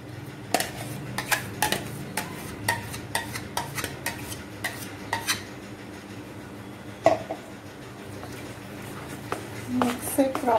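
Spoon stirring plantain batter for Kerala unniappam in a bowl, with repeated light clinks and scrapes against the bowl at an uneven rhythm, close and moderately quiet.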